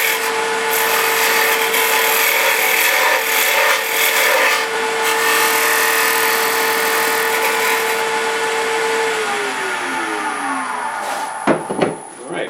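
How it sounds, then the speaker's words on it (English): A wooden tenon is turned on a woodworking lathe. A steady motor hum and the tool scraping against the spinning wood run loud and close, then the lathe winds down near the end with a few knocks. "And make myself a little tenon right here."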